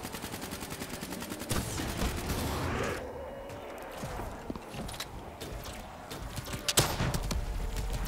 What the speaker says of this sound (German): Würdet ihr bitte nicht alle instant auf mich schießen?